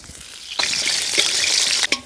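Potatoes fry in a hot pan of oil for chicken kacchi biryani, a steady close sizzle that jumps louder after a quiet start, with a couple of brief stirring knocks near the end.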